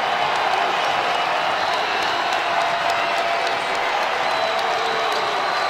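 Basketball arena crowd at a college game between Wright State and Northern Kentucky cheers and claps on its feet, a loud, continuous roar with applause and whoops, an announcer faintly underneath.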